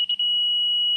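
A laser level gives one sustained high-pitched electronic beep, ringing steadily for about a second after a brief stutter at the start.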